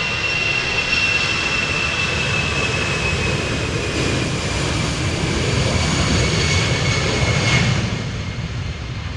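An Airbus A319 jet departing Amsterdam Schiphol in a crosswind roars loud and steady throughout, with a faint whine on top, easing slightly at the end.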